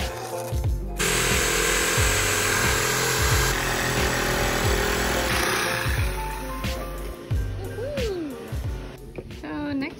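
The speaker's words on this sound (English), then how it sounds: "We are gonna cut this plywood to make a circle" A power tool cuts a circle from plywood, whining and buzzing steadily for several seconds before stopping, followed by a few handling knocks and clatter.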